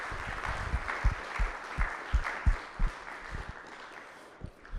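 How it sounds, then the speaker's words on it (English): Seminar audience giving a round of applause for George, a thin scattering of claps with a few distinct louder hits, moderate and fading out toward the end. "give George a big round of applause"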